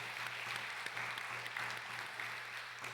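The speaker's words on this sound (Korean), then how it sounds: "우리 박수 한번 하시죠" A church congregation applauds during a Sunday worship service with steady, soft clapping heard from a distance against a low hum.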